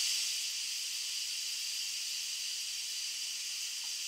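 A kitchen pressure cooker releases built-up steam while kitchari cooks, giving a steady, loud, close hiss that holds even throughout with no talking.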